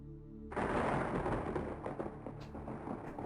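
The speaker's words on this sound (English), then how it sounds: "Not sure why there seems to be a thunderstorm in the graveyard whenever I go there." A thunderstorm in a graveyard in the 1993 game Quest for Glory 4, a sudden loud rumbling thunder crash that rolls on with crackling texture, no speech.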